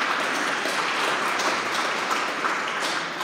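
Congregation at an Episcopal Sunday service applauding in a church, a dense, even wash of many hands clapping that holds steady throughout.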